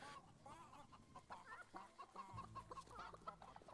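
Chickens cluck busily and continuously in the Fable 3 video game, several birds overlapping in a lively farmyard chatter with a low background hum.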